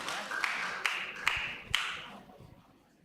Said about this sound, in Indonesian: mari seberikan tepuk tangan